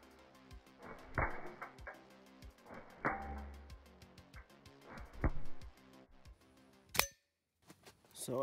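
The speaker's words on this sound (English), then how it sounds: "Up first is the Daisy Buck. And we're only gonna be shooting at about 10 feet distance." A Daisy Buck BB gun fires at baloney from about ten feet, giving a series of sharp, close metallic clanks and snaps spaced a second or two apart over faint ticking.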